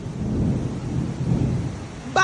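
Heavy rain falls with a deep rumble of thunder rolling through, a loud low roar lasting the whole moment before a brief sharper sound at the very end.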